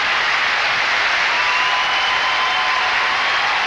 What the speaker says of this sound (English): from the intensity of the applause, that I don't think the audience feels they should be the champion